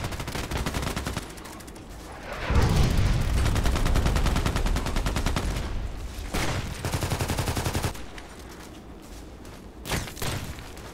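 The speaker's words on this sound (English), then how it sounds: "This is mortar coming." Incoming mortar fire and gunshots in the Contract Wars shooter: a heavy booming barrage with sustained rapid gunfire, then scattered shots and a final thump, loud and close.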